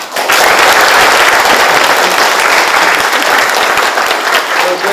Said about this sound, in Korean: 다시 한번 박수 보내주십시오.